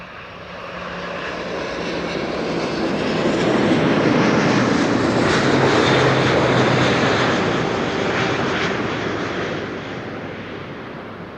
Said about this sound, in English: This is KLM flight 696, arriving from Toronto in Canada. 777-200